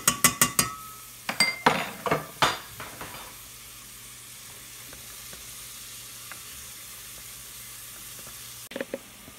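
Garlic and celery sizzling in a frying pan, opening with several sharp clinks and scrapes of a utensil stirring against the pan, then a soft, steady frying hiss, with a few more scrapes at the end.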